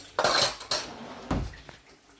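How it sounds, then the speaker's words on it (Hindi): Tea cups and dishes being washed, with sharp clinks and clatters of crockery at a close distance, three distinct bursts of rattling dishware separated by brief pauses. "बर्तन वगैरह चाय के हैं, बस वो वॉश करूँगी"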